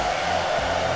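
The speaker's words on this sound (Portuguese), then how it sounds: "com o secador." A hair dryer blows over a dog's wet fur, giving a steady, close, even whoosh of fan noise with no speech.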